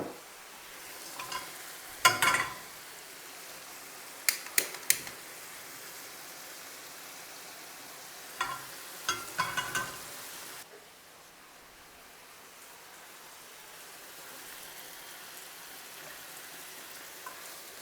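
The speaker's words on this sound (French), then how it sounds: "on va faire revenir l'échalote ici, dans un filet d'huile d'olive" Shallot cooks in a drizzle of olive oil with a quiet, soft sizzle, broken by several sharp stirring clatters of a utensil against the pan, and no one speaks.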